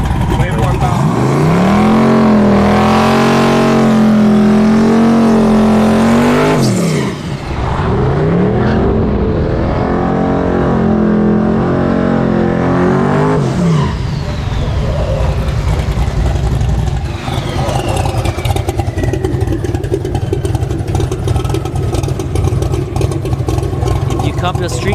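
A twin-turbo 6.0L LS Firebird drag racing a gutted Tesla Plaid over a quarter mile roars loudly up through rising engine sweeps, then drops to a rougher droning rumble. Voices talk over the engine noise.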